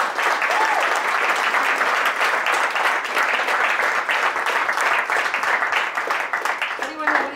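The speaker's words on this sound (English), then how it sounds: "let's give a big round of applause." A crowd at a startup meetup talk applauds with dense, sustained clapping that holds steady throughout, close and loud, with voices faintly mixed into the applause.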